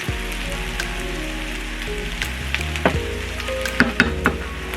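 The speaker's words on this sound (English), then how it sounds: "So I'm just going to just move it out in the pan like this." Potatoes with onions and green peppers fry in a pan with a steady crackling sizzle, broken by a few louder scraping and clattering moments as the mixture is spread out; no one speaks.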